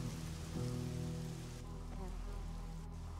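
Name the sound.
rain falling in the video game Risen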